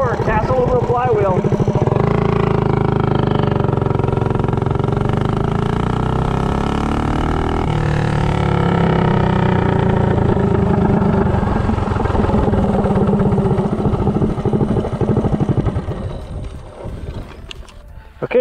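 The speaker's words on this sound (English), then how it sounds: "0 to 30, Predator 224, cast aluminum flywheel." A Predator 224 small engine fitted with a cast aluminum flywheel roars steadily and loudly as it accelerates from 0 to 30, then drops away near the end.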